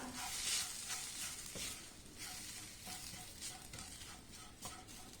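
A spoon stirs Kashmiri chili powder in a pan while mango pickle is being made, giving quiet, repeated scraping strokes over a faint sizzle, with no talking.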